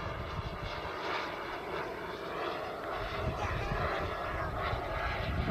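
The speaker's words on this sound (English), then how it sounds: "I'll do a flyby and a climb." Radio-controlled Tuono NRG model airplane with its engine droning steadily throughout, a fairly loud continuous buzz that swells slightly toward the end as it passes by.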